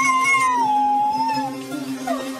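A dog in Brazil howls sadly, a long wavering mournful note sliding down in pitch, close and clear, ending in softer whimpering sounds.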